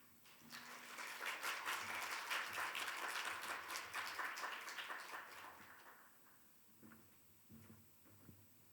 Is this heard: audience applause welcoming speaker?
yes